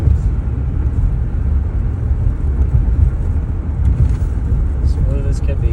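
Steady low engine and road rumble from a 1977 Chrysler New Yorker cruising at highway speed, with a faint shift between gears that barely stands out from the continuous drone.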